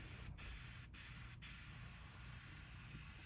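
Spray gun painting a fishing lure through a stencil, a steady close airbrush hiss running unbroken with a few brief dips.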